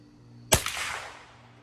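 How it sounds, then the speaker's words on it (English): A single sharp crack from a .22LR rifle fired outdoors, a short bright report followed by a brief fading tail, with quiet surroundings before and after. "I think this is the last shot."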